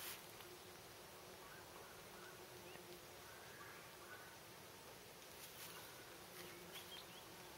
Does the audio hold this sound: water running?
no